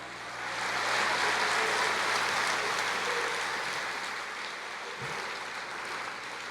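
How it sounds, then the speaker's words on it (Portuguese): A church congregation applauding in praise, a dense, sustained wash of clapping that swells and holds steady at moderate loudness, with no clear voices. "Aplauda o Senhor, diga glória a Deus. Aplauda mais, é para o Senhor"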